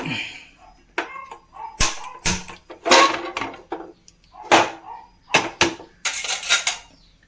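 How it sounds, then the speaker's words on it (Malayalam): A gas stove is switched on beneath a cooking pot of puzhukku, giving a series of sharp, close clicks and metallic clatters spaced irregularly, with quiet gaps between them. "ഇനി നമുക്ക് ഗ്യാസ് ഓൺ ചെയ്യാം"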